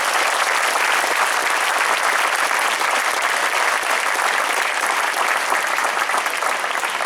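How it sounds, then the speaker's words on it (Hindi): A hall audience claps loudly for children at an event on environmental entrepreneurship, a dense, steady wash of applause that fills the whole stretch without a break. "तो सबसे पहले पूरे हॉल में एक जोर से तालियां हो जाए"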